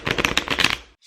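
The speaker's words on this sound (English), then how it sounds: "Everybody needs to shuffle their deck of cards." A deck of playing cards being shuffled, a quick flurry of riffling flutters lasting about a second, close and fairly loud, then stopping abruptly.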